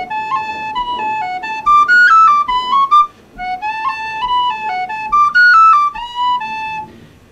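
A tin whistle plays a lively phrase from the Irish reel The Silver Spear, alone and close, with quick notes and audible slides gliding up into pitches.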